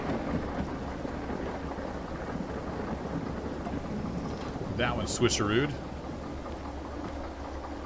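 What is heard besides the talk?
thunderstorm with thunder and rain in video game Derail Valley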